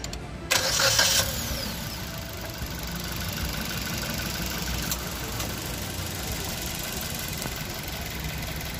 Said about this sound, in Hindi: let's check out the engine sound